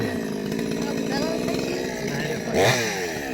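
A chainsaw-type cutting machine starts up to fell a large neem tree in a farm field, its engine droning and then revving sharply near the end, with voices mixed in.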